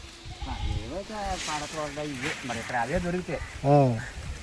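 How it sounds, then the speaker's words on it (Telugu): Goats bleat repeatedly close by in a village while being fed jackfruit leaves, several wavering cries overlapping in a cluster, with one loud bleat standing out near the end. "పనసాకులు ఈ మేకలకు మేత అనమాట"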